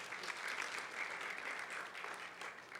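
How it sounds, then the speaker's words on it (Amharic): Church congregation applauding together, a steady dense wash of many hands clapping that holds evenly from start to finish with no voices standing out. "ጌታ አጨብጭቡ ደግሞ ለእርስ በርሳችሁ።"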